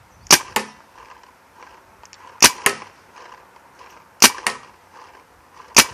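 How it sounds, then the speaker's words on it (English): A Proto Rail paintball marker fires in quick pairs of sharp cracks, four bursts spaced about two seconds apart, loud and close with quiet between them and no speech. "just flick the trigger here so you guys can see the how high the gun raises when you shoot it"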